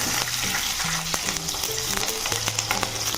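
Panch phoron and green chilies frying in hot oil, a dense, continuous close sizzle and crackle with faint stirring, no talking.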